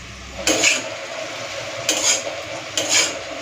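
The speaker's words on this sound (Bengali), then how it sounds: "যেটুকুনি তেল আছে তাতেই হয়ে যাবে পোস্ত ভাজাটা" Poppy seeds fry in leftover oil beside crisp fried potatoes in a pan: a steady oily hiss runs throughout, broken by three short scraping stirs of a spatula.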